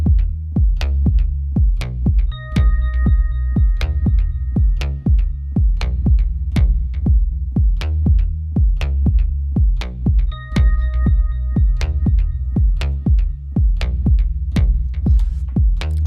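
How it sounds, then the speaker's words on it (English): An Arturia B3 virtual organ plays a sustained octave within an electronic dance track, its held chords appearing in two short stretches over a steady, punchy kick-driven beat and deep bass. "This organ is a B3 from Arturia."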